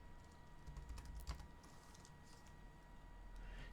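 Typing on a computer keyboard while entering code, with soft, quiet keystrokes in an irregular run and one sharper tap near the middle, alone over low room hum.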